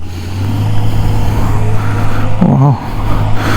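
An Ultraviolette F77 electric motorcycle being ridden gives a steady, loud broadband road and wind rush throughout, with a low motor hum and a brief rising whine near the end.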